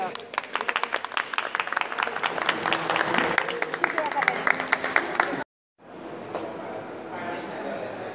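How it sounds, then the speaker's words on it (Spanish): At a street rally for transgender rights, a crowd breaks into lively applause with cheering voices mixed in, loud and dense for about five seconds before a brief cut and a quieter crowd murmur. "Le damos un aplauso a Marcela."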